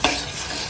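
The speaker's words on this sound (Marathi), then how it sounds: "म्हणजे आपण गरम गरम तेल घातल्यानंतर फोडणी दिल्यासारखी होईल डाळी." Dal whisked smooth is poured into hot oil for tempering, giving a sharp burst of sizzling and stirring right at the start that settles into a steady, close frying hiss.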